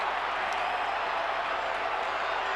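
Large stadium crowd at a 1996 Australian rules football semi final between Central and Port Adelaide, a steady broad roar of cheering with faint clapping, continuous throughout.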